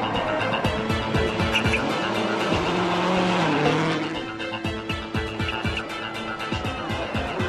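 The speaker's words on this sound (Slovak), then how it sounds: "So svojím vynikajúcim autom a s plnou nádržou sebadôvery vyráža Peter do masívneho útoku." A rally car at Rally Sweden launches from the start, its engine revving hard in a rapid series of loud, close bursts before easing as it pulls away, with no talk over it.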